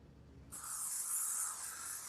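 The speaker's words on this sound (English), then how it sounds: "Where's that bug spray at? We'll need some of that." An aerosol can of bug spray sprays in one steady, close hissing burst lasting about a second and a half after a quiet start, outdoors at an airport airshow practice.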